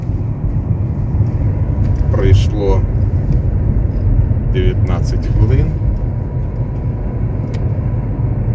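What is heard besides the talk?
car engine running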